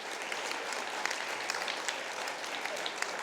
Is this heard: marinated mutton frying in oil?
no